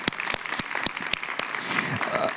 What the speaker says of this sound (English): A round of applause for Paul Hollis.